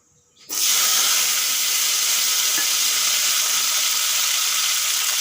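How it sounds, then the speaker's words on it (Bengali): Potatoes dropped into hot oil in a wok erupt into a loud, steady sizzle that continues evenly for several seconds with no talking. "তেল গরম হয়ে গেছে এখন আলুগুলো ভেজে নেব"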